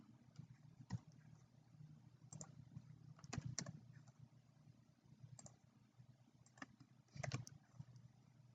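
Quiet typing on a computer keyboard, scattered soft keystrokes and small clusters of clicks spread over several seconds above a low background hum.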